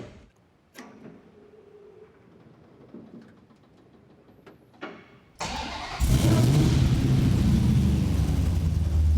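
A 1969 Hellcat Charger with 14-inch mufflers cranks and fires up after some quiet shop clatter, then settles into a loud, steady, deep idle and revving close by.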